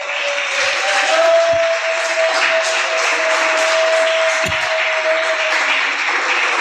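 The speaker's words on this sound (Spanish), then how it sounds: "Dese un aplauso, iglesia." A church congregation applauds in a steady, dense wash of clapping that holds at an even loudness throughout, with a faint sustained tone running beneath it.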